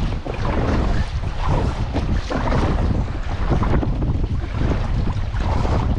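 Rough sea waves and strong wind buffeting a kayak on a freezing winter cod-fishing trip, loud gusting roar and sloshing water hitting the hull without pause.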